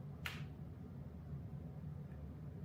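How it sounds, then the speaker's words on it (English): One short, sharp hand clap, fairly faint against a steady low hum, followed by quiet. "I'm gonna clap."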